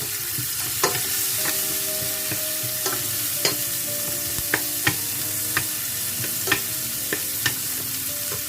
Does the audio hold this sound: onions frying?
yes